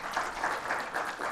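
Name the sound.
audience applause for panelists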